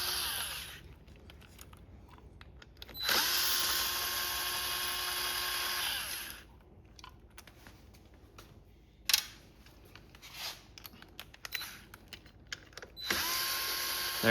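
Power driver whirring in bursts as screws come out of the metal cover on a Lowrance Ghost trolling motor head, with three sustained runs separated by quieter clicks and handling noises, close up with no talking.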